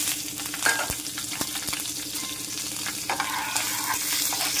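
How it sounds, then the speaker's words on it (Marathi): Cumin seeds and chillies frying in hot ghee for a fasting-day amti, a steady close sizzle and crackle with a few sharper pops and spits throughout. "आता तूप तापलेलं आहे, मी थोडंसं जिरं टाकते आणि मिरची"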